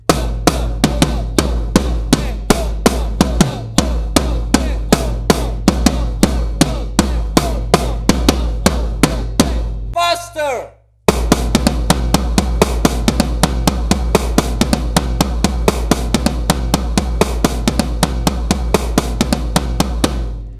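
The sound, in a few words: drum kit playing a drum solo pattern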